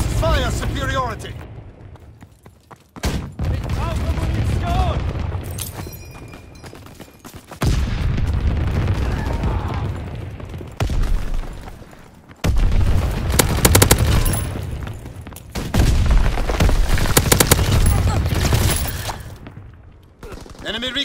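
Flak guns firing in a war video game, repeated rapid bursts and booming volleys with short gaps between them, loud and close, with radio-style voice callouts spoken over the gunfire.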